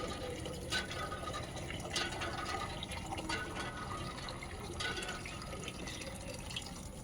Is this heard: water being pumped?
yes